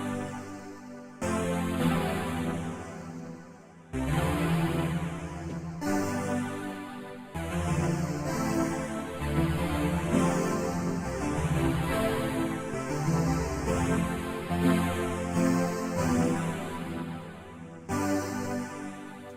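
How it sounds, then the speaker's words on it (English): A Thor synthesizer patch from Reason plays a melodic sequence with a sweeping, wobbling filter that rises and falls in repeated waves, broken by a few short pauses and heard alone at moderate level. "That's the Thor from Reason."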